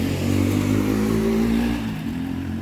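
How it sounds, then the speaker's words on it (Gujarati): Motorcycle arriving in a farm village, a mid-pitched engine hum that rises then drops off as it comes to a stop, close and fairly loud with no talk. "આ બાઇક લઈને આવે એ છે"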